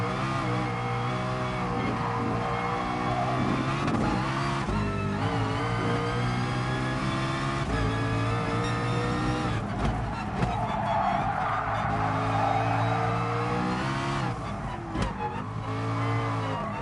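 A McLaren race car in the Gran Turismo Sport racing game, driven with a steering wheel, its engine revving loudly and steadily throughout, with tire squeal mixed into the continuous roar.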